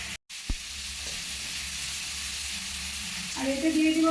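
Garlic and onion frying in oil in a wok, a loud continuous close sizzle after a short gap, with a knock near the start and brighter crackling building toward the end.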